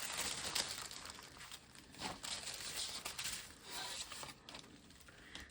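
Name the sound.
scissors poking and cutting tissue paper corners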